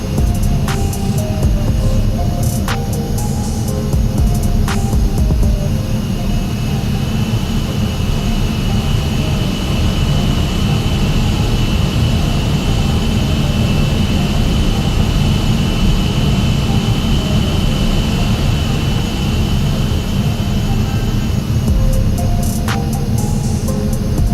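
A jet airliner in the X-Plane 11 flight simulator comes in to land, its engines droning loud and steady with a constant low rumble and high whine, broken by a few faint clicks.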